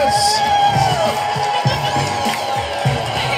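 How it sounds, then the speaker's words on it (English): Studio audience at the Let's Make A Deal game show cheering and whooping loudly, a sustained crowd roar with shouts rising over it. "Give a big round of applause."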